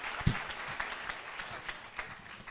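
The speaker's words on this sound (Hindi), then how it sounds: "एक बार जोरदार तालियां बजा दो इनके लिए भी।" Applause from an audience at an RCM business meeting in India, faint and distant with scattered claps, one sharp louder clap near the start.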